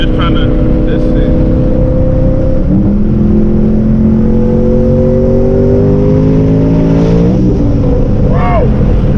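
Twin-turbo Ford Boss 302 Mustang, over 850 hp, pulling hard under high boost: a loud, sustained engine roar with rising harmonics through the gears, a brief shift break near the middle, and turbo whir on top, close in the cabin.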